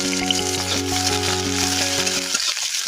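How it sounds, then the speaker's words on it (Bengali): Bay leaves and five-spice seeds sizzle in hot refined oil in a wok, a continuous crackling hiss heard close up under steady tonal background music. "কড়াইয়ের মধ্যে আমি রিফাইন্ড অয়েল দিয়ে দুটো তেজপাতা এবং 5 ফোড়ন দিয়ে দিচ্ছি।"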